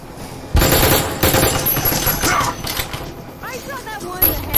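Rapid gunfire in the Breachers video game, a dense burst of loud automatic shots running through most of the moment with brief gaps, overlaid by talk.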